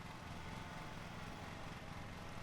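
Lawn mower engine idling in a video game, a constant low buzzing drone at steady faint level with no change in pitch and no voices.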